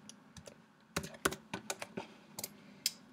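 Typing on a computer keyboard during a FROONT online web design workshop, with quiet scattered keystrokes that cluster into short bursts of sharp clicks, close and alone without speech.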